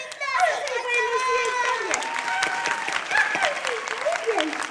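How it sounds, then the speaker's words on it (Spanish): An audience applauds singers at a show, a dense wash of clapping running under an excited, high-pitched voice talking over it throughout. "démosle un fuerte aplauso a nuestros cantantes talentosos"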